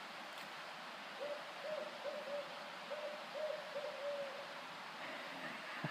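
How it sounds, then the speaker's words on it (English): Owl hooting in daytime woods near a vine maple, a series of soft, evenly spaced hoots repeating in short groups over steady background hiss. "I'm sure there are owls that make calls during the day."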